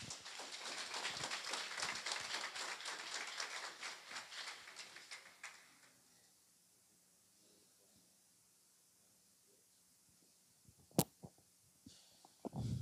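A church congregation claps in dense, steady applause that fades out about halfway through, leaving near silence broken by a few faint knocks.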